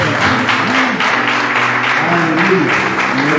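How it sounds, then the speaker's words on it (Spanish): A church congregation at a divine healing service claps loudly and steadily. The applause is close and dense, with voices murmuring and calling out underneath. "Démosle un aplauso."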